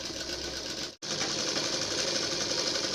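A sewing machine stitches a border onto a garment neckline, running as a fast, continuous close whir that stops abruptly for a split second and then resumes at the same pace.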